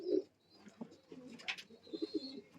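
High flyer pigeons coo softly in a loft in winter, a few faint low burbling calls in short bursts with a brief higher chirp, close by and alone.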